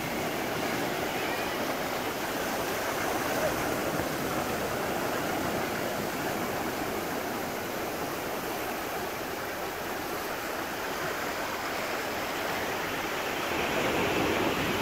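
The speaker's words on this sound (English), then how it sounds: "Nice waves too" Ocean waves wash steadily at Magic Sands Beach on the Big Island of Hawaii, a constant broad rushing surf with no pauses, heard alone at moderate level.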